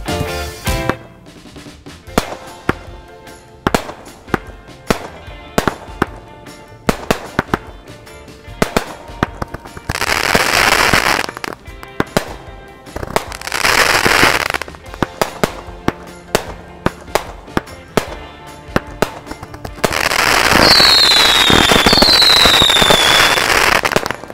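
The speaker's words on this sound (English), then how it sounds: "We got bangs, we got mines, we got rapid fire effects, we got whistling" Fireworks crackle and bang in rapid bursts, with dense stretches of crackling, loud pops, and a high whistle near the end; very loud and close.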